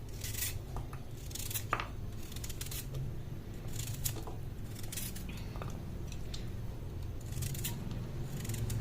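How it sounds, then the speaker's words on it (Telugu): Repeated short crisp cuts and scraping taps of a knife through firm pieces of tender raw coconut on a board, close up, with a steady low background hum. "కొబ్బరి లేతగా ఉంటుంది కాబట్టి ముక్కలుగా కట్ చేసుకోవడం త్వరగా అయిపోతుంది"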